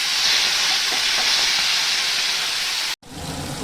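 Tomatoes dropped into hot oil with bay leaf and whole cumin for a Bengali fish and potato curry, giving a loud, steady hiss of sizzling that runs throughout before a brief cut near the end.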